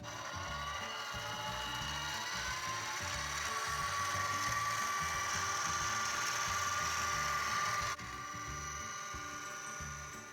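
A small Harbor Freight mini mill drills a clearance hole, whining steadily for about ten seconds, a continuous high-pitched motor hum with faint grinding, close by.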